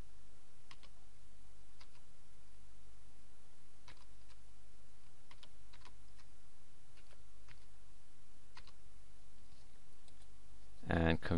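Scattered computer keyboard key clicks come as a password is typed, faint and uneven against a low steady hum, with a louder clatter at the very end.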